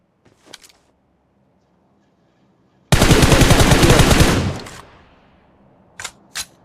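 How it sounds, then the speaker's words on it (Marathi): Rapid automatic gunfire in the BGMI mobile battle royale game, a loud sustained burst of about one and a half seconds with a tailing echo, followed by two short sharp shots, with no talking. "मला आता इकडून आवाज आला फायरिंगचा."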